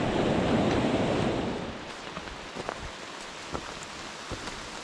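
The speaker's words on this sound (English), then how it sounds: "we are working through our daily rainstorm" Rain pours down on forest trees along Baker Peak, Vermont, in a dense hiss that fades after a couple of seconds into scattered drips and light patter.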